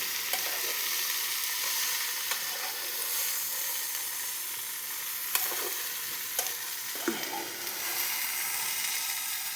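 Soybean masala fries in oil in a pan, giving a steady bright sizzle with occasional clicks and scrapes as the spoon stirs it, fairly quiet and alone.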